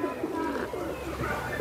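Kaldum pigeons coo in a steady, low throaty murmur close at hand, a continuous bubbling drone with faint voices in the background.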